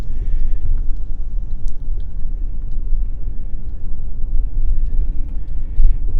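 A car rolls slowly along a short drive into a campground at Arrow Rock State Historic Site, giving a steady close low rumble of engine and tires throughout with no voices.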